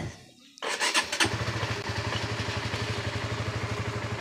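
A motorcycle with a push-button electric starter cranks briefly, then catches and settles into a steady, close, pulsing idle.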